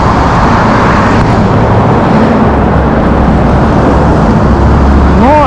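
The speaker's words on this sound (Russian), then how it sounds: "Шумно немножечко, как слышите, машины." Steady roar of road traffic with cars passing along a dark street leading to the railway station in Lazarevskoye, Sochi, a loud continuous wash of engine and tyre noise with no voices.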